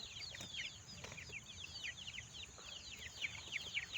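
Month-old chicks in a cage chirp and cluck continuously as a busy, layered chorus of rapid high peeps, fairly close, with no talk over them.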